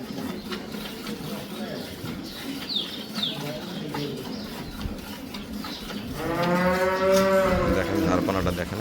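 A dairy cow in a farm setting gives a long, loud, resonant moo near the end, following quieter ambient farm sounds with birds and some background voices.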